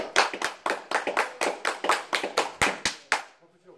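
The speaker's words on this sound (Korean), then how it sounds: "박수 박수!" Steady, rhythmic clapping at a Korean lecture: about fourteen crisp, close claps at an even pace, heard alone and then stopping abruptly.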